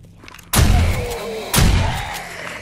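Two loud, close level 2 shotgun blasts in the zombie survival game 7 Days to Die, a second apart, each a sharp boom with a ringing tail.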